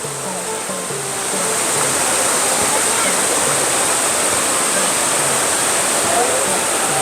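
A waterfall in a forest in Ubon province, Thailand, pours with a loud, constant roar of rushing water. The sound builds slightly in the first second and then holds steady, close and dense, with no voices.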